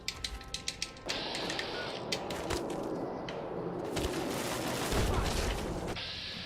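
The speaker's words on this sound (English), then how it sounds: "No, it's just turrets." Automated turrets firing in Fallout 3, with a few sharp cracks at the start, then a sustained loud burst of rapid gunfire and blasts that runs almost to the end.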